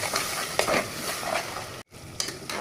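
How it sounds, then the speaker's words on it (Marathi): Steady sizzling of ginger, garlic and green chilli paste frying in a pan, with spatula scrapes and stirring knocks throughout and a brief dropout near the end. "आता आपण त्याच्यामध्ये आपण जी बनवलेली पेस्ट आहे जिंजर गार्लिक ते घालून घेऊया"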